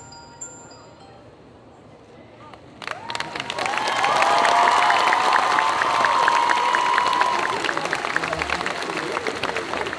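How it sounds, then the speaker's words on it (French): After a quiet start, a crowd at a cosplay group contest bursts into sustained applause and cheering for Bakeneko Cosplay, with whistles and shouts riding over the clapping. "Pour encore un tonnerre d'applaudissements pour Bakeneko Cosplay."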